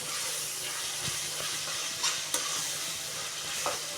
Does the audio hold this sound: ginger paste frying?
yes